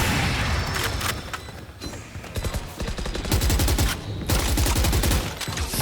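Rapid automatic bursts from an Odin machine gun in Valorant during a competitive esports grand final match, loud, close, chattering strings of shots broken by brief pauses.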